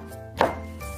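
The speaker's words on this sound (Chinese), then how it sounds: "沥干切碎" A single knife chop through blanched Chinese toon leaves on a cutting board, one crisp close thud with no one speaking.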